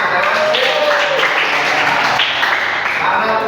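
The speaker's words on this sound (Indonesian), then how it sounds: "Oke, tepuk tangan." Children in a classroom clap together in a dense, steady burst of applause that is loud and close, with young voices chattering through it.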